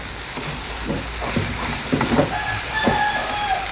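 Rice noodles and marinated pork stir-fried with oyster sauce and sugar in a wok, a steady sizzle broken by irregular clanks and scrapes of the spatula, close and moderately loud with no talking.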